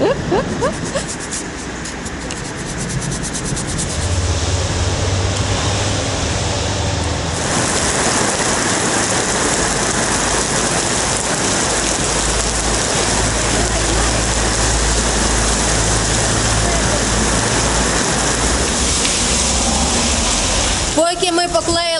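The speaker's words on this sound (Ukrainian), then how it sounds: "злива, наче проходить, і вже стало ясніше на дворі" A heavy rain downpour during a cycling trip in Turkey, a loud, constant hiss that swells even heavier after several seconds and keeps pouring without pause.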